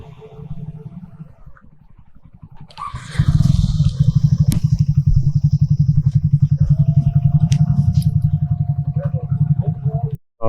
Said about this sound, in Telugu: బీచ్లోకి అయితే ఎంట్రీ చేస్తున్నాం బైక్స్.